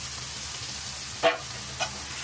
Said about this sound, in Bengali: এখন এদিকে আমি আমার মাছগুলোকে দিয়ে দিচ্ছি